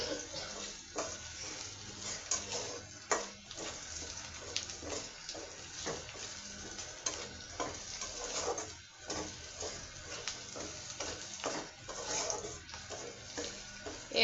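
Onion and garlic fry in a pan with steady sizzling and occasional stirring scrapes, close and continuous, with no voices.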